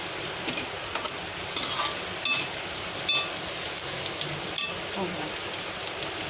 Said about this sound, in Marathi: चवीनुसार मीठ टाकून छान मस्त हलवून घ्यायचं आहे